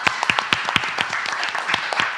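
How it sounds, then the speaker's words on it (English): A congregation at a Sunday celebration service applauds itself, with sharp, fairly sparse claps in an uneven rhythm and the individual hand strikes clearly separated, close by. "everyone, let's applaud yourselves."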